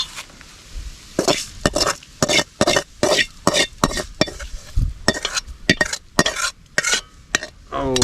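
A tapioca and sardine curry being stirred in a pot, with a rapid series of loud, close scraping and clinking strokes of a utensil against metal, some light sizzling between them, and no talking.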